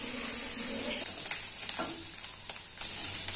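Cumin, chili powder, a pinch of turmeric and masala sauté in hot oil in a pan, a steady soft sizzle with faint stirring scrapes, close and alone without talk.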